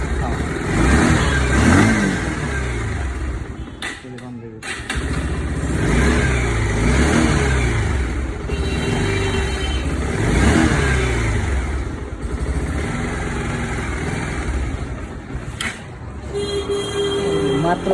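A motor vehicle engine with its exhaust pipe left open starts and revs repeatedly, loud rising and falling roars with brief idle dips between, close by, while someone talks over it.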